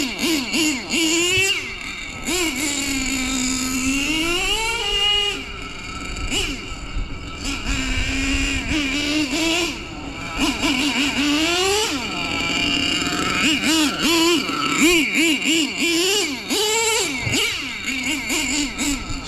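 Nitro engine of a Traxxas T-Maxx 3.4 RC truck with a Hot Racing clutch, buzzing at a high pitch with repeated revs up and down and popping bursts, close and fairly loud throughout.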